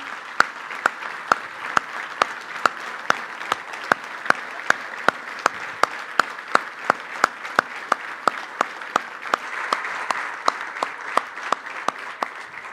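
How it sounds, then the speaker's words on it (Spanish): A standing audience at a tribute to football legend Andrés Escobar claps in steady unison, crisp beats falling roughly twice a second over a soft crowd murmur for nearly thirteen seconds. "un aplauso de pie"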